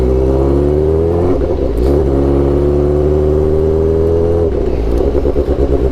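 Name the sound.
straight-piped Suzuki GSX-R600 motorcycle engine revving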